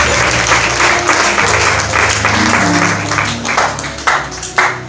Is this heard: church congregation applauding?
yes